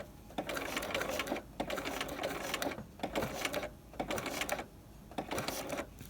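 Sewing machine stitching a welt pocket at a short 0.5 stitch length, running in bursts of rapid rhythmic clatter with brief pauses between runs, close and fairly loud.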